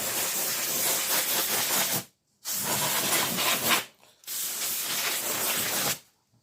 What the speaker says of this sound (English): I've got one of these air duster cans. It's basically air in a can.